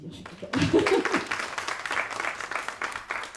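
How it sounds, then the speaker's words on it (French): Audience clapping at a book caravan café opening, moderate and scattered, rising after a brief voice at the start and continuing unevenly with some murmur underneath. "vous pouvez l'applaudir"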